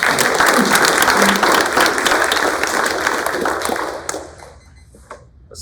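An audience at a Union County Republican candidate forum claps loudly for local political candidates, with sustained applause that fades out near the end.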